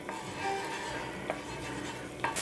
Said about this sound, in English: That is some of the coconut water or liquid that is in this layer boiling out.